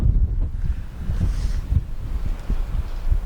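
Strong gusty wind buffets the microphone with low rumbling bursts throughout, over a faint wash of water or waves.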